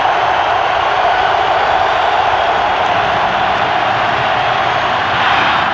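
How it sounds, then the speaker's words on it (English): Loud, dense roar of a stadium crowd at the 1997 AFC Championship football game, Denver at Pittsburgh, a constant wall of cheering and noise that never lets up. "Crowd trying to help as much as it can"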